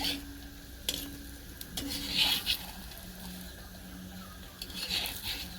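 Oil added to a methi paratha (thepla) on a pan, followed by soft sizzling and repeated spatula stirring and scraping strokes, close and moderately quiet.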